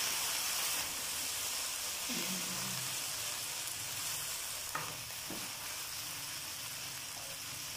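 Chicken fried rice frying in a pan gives a steady broadband sizzle and hiss throughout, with a couple of brief stirring scrapes partway in and no voices.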